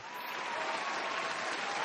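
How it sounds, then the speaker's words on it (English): Brief burst of dense, steady applause from a crowd, even in volume throughout, with no talking. "I'll put some clapping in there or something."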